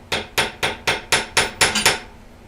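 A hammer strikes bent, wavy metal over another hammer used as a small anvil, flattening the bends: eight sharp, ringing blows in a steady quick rhythm, close and loud, with no talking.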